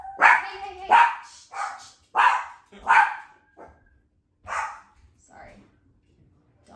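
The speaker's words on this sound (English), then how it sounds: "dogs." Dogs barking in a series of sharp, loud barks spaced about a second apart, close by, trailing off into quieter yips, with a voice speaking briefly.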